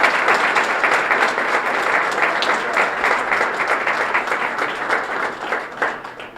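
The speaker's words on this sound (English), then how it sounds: "So please give them all a very large round of applause." A school ceremony audience at Carlson High School claps in a large round of applause, dense and steady throughout, loud and close, with no talking over it.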